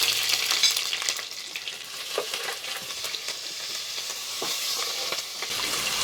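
Green chilies frying with cashews in a pan of hot oil, a continuous bright sizzle with occasional stirring scrapes, close and fairly loud, no talking.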